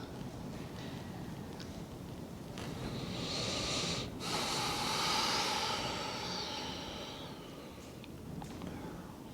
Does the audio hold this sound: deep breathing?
yes